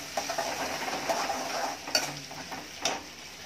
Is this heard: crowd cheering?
no